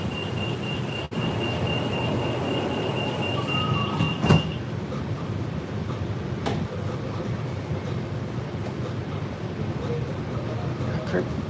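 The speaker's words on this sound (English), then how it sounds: "it looks like there's another train right there" A Bangkok rail transit train runs with a constant rumbling roar, brief wheel squeals and a whine fading early, heard close while people talk over it.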